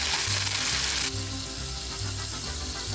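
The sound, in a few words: shredded beef sizzling on a griddle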